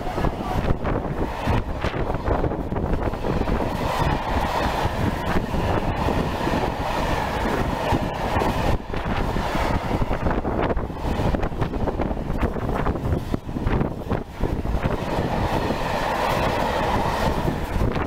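A train passes at Syston on the Midland Main Line, its loud steady roar and rumble running throughout with rail clatter, buffeted by wind noise on the microphone.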